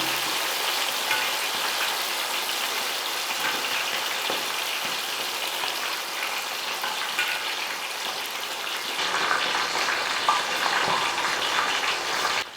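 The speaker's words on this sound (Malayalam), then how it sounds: "ചൂടെണ്ണ കോരി ഇതിനകത്തോട്ട് ഒഴിക്കണം." Hot oil ladled over a whole green-marinated chicken frying in a pan, a steady broadband sizzle and crackle running continuously with a slight surge near the end, no talk.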